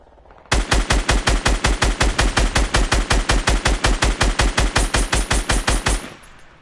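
Rapid automatic gunfire bursts loudly in a shooter video game as an enemy is shot down, about two dozen evenly spaced shots ringing out in one sustained volley before cutting off.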